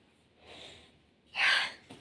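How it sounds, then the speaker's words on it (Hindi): A woman lets out one sharp, breathy cough near the microphone in a closed room, preceded by a softer exhale and followed by a brief catch of breath. "खांसी बहुत आ रही है"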